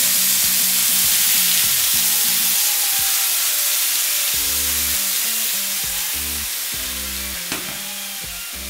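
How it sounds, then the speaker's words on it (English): A loud, steady sizzling hiss as boiling water is poured into a hot pan of potstickers and steams, fading slowly toward the end. "we're pouring in boiling water, which is going to produce a lot of steam"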